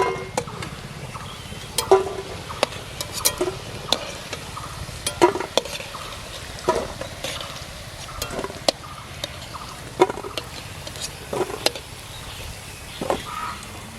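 Catla fish roe fritters (bora) fry in a pan and are lifted out, with soft sizzling broken by sharp, irregular clinks and scrapes of a utensil against the pan.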